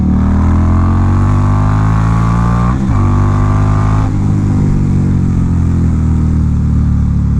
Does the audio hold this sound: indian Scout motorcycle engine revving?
yes